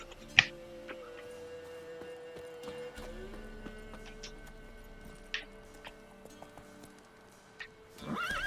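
A horse gallops in the video game Witcher 3, with fairly faint rhythmic clip-clop hoofbeats, scattered ticks, and a whinny-like cry near the end.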